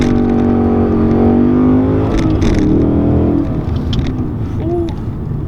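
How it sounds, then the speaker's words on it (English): A 2015 Ford Mustang GT V8 pulls hard in first gear, its engine note rising loud and steady from inside the cabin, then easing off as the revs drop near the end. "right, let's get a little first gear pull."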